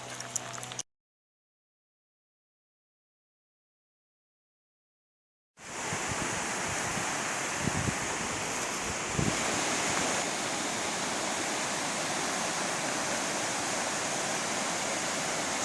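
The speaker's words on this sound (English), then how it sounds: "Two pretty good sized creeks joining together right there." Two good-sized mountain creeks join in the Great Smoky Mountains, giving a broad, steady rushing of water. It starts briefly, drops to silence for several seconds, then returns loud and continuous with a couple of faint knocks.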